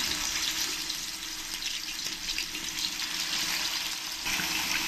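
Chicken pieces fry in hot oil for a curd chicken dish, giving off a continuous bright, hissing sizzle at moderate level, steady and uninterrupted, with no voices.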